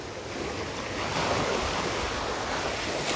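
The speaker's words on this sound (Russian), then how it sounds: "вот когда дождик, вот эти волны" Ocean waves roll on a rainy day with steady, broad surf noise and some wind buffeting the microphone, continuous and fairly loud, with no voices.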